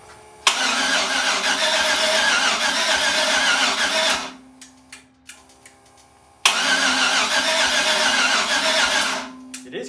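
A cheap LS 4.8 LR4 V8 on a test run cranks over and catches in a loud burst, runs roughly and stops, then after a few clicks and knocks cranks and fires again.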